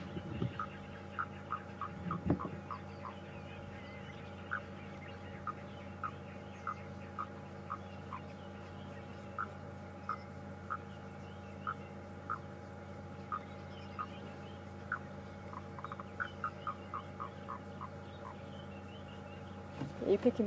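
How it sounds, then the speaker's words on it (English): Grey foam nest frogs call from a wild reserve in a repeated series of short clicking croaks, fairly faint and spread over a steady low engine-like hum, with no talking. "The foam nest frog, or grey tree frog, I think its other name is."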